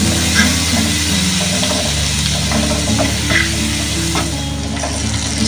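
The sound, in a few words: butter sizzling in a pan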